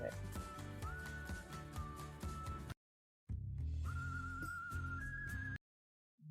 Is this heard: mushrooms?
no